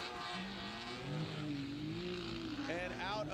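Nissan Z drift car with an AMS-built motor wailing at a Formula Drift event in Atlanta, engine tones sweeping up and down among other cars and loud commentary over the top.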